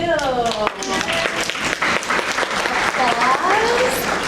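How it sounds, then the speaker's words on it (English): A classroom audience claps in a dense, steady burst of applause for a lawyer, with voices chattering and calling out over the clapping throughout. "Applause for the lawyer"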